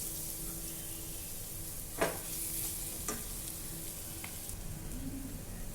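Green chillies sautéing in a pan for a dry cluster-bean stir-fry, a faint steady sizzle broken by a few sharp stirring scrapes.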